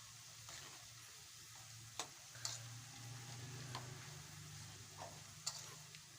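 Jalebi batter made from ration rice and urad dal fries in hot oil over high gas, a faint steady sizzle with scattered small ticks and clinks of a utensil, no talking.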